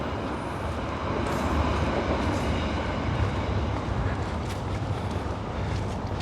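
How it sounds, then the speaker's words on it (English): A steady rumble and clatter of a train crossing a bridge near Liverpool Central, heard at a moderate distance, continuous throughout with no talking. "There's a train going across there"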